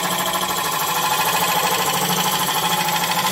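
Wood lathe spinning an olive ash bowl as a gouge takes finishing cuts, a steady continuous whirring drone with a rough, buzzing texture, close and constant throughout with no talking.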